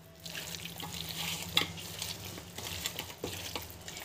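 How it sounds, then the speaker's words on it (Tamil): Chicken thokku masala being stirred in a pan, a soft scraping and sizzling texture with a few sharper clinks of the spoon against the metal, close and steady, with no talking. "You need to mix it well."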